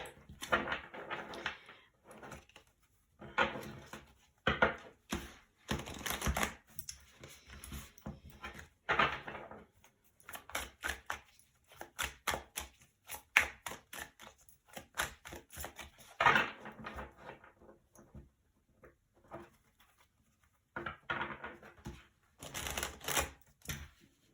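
Repeated crisp shuffling and riffling of tarot cards in irregular bursts, close and fairly quiet, with short pauses between runs.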